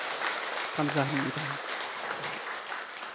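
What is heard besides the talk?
congregation applauding the choir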